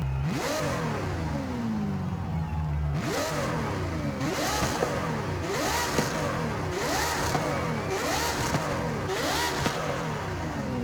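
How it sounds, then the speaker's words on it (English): A V12 car engine in Forza Horizon 5 screams through a long rev, then climbs through a rapid series of rising, shifting revs in a steady cycle, loud and close with no talk. "This V12 screaming."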